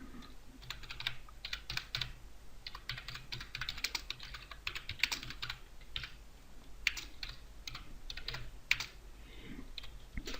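Someone types a post on a computer keyboard, giving quiet, close, rapid clicking keystrokes in irregular bursts with short pauses and no speech.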